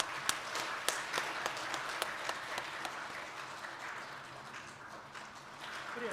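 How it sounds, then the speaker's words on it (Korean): A church congregation applauding during a Sunday morning service, a dense, sustained wash of many hands clapping in a reverberant hall, with a few sharper claps standing out and a voice faintly audible beneath. "담임 목사님께서 준비된 선물을 전해 주실 때 따뜻한 박수 함께 보내 주시기를 바랍니다."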